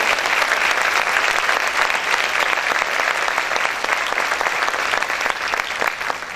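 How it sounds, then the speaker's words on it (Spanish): A church congregation claps loudly and continuously, a dense, even roar of many hands that holds steady throughout with little voice on top. "¿Cuántos pueden aplaudir más fuerte al Señor?"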